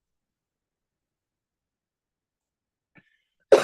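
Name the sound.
cough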